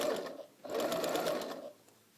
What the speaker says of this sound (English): now I'll continue sewing, always aligning with the tape